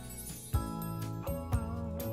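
Sustained strings with steady harmonic lines over a soft bass and occasional thumping beats, a lush ensemble backing a smooth 1982 Japanese city pop arrangement.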